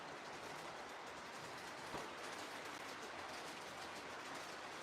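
A train runs steadily in a train video game, a dense, even rumble and rush of wheels on track continuing without a break and with no one speaking.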